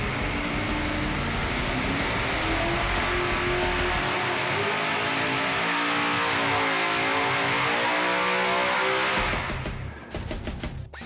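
An 800-plus cubic inch pro stock Hemi V8 of nearly 2,000 horsepower roars on a dyno, loud and sustained, its pitch rising and wavering before it cuts off abruptly near the end.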